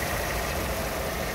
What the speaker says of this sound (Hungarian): Egy döngicsélő kis motort